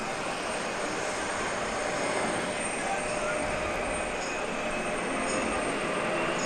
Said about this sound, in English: Oh, we got a plane taking off.